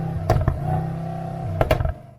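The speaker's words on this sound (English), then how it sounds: "The AMG GLS 63 comes with 2 distinct exhaust notes." Exhaust note of a 2020 Mercedes-AMG GLS 63 in its powerful mode: a loud, close, steady droning rumble with two pairs of sharp revving bursts near the start and end, then fading out.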